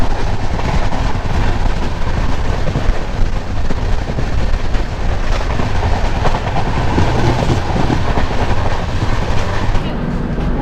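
Shatabdi double decker superfast express running on rails between Chennai and Bangalore, heard as a loud, steady rumble with continuous rail clatter and wind noise.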